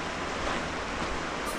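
A swollen mountain river in the Bieszczady near Tarnawa Wyżna and Kalnica, rising after two hours of rain, gives a steady, dense rush of water that holds at an even level throughout, close by and alone.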